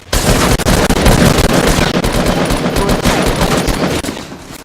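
Loud, sustained automatic gunfire from a first-person shooter video game, dense rapid bursts packed together for several seconds before easing off at the end, with no voices.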